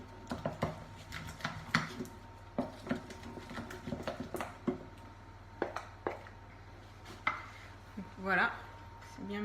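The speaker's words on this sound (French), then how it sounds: "Ensuite, vous mélangez le tout." Financier batter mixed in a bowl, with irregular knocks and clinks of the utensil against the bowl at close range and a short scraping swirl near the end.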